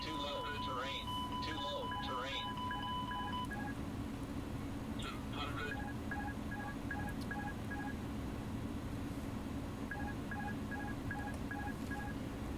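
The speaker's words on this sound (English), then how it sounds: "that beeping will not stop, will it?" An Airbus A310 cockpit warning in Microsoft Flight Simulator sounds repeated electronic beeps in short bursts over a steady engine hum, with a voice speaking partway through.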